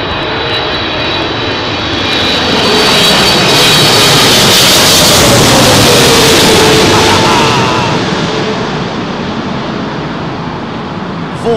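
Jet airliner landing on runway 27L at London Heathrow on a windy day: a loud, sustained engine roar swells and then fades, mixed with whooshing wake turbulence and gusting wind.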